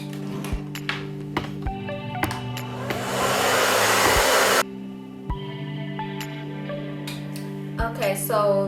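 A blow dryer dries stretched hair in a short, loud whooshing burst of about a second and a half, surrounded by clicks and handling sounds and a person talking.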